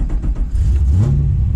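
A race car revs its engine loudly and close by, a deep rumbling growl that climbs in pitch through a short burst with no voices over it.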